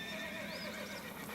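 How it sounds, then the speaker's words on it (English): A horse on a riding trip in Arizona gives a drawn-out whinny, its wavering call rising and falling over a steady outdoor background, fairly clear and unaccompanied by speech. "We're riding horses down to this little place today."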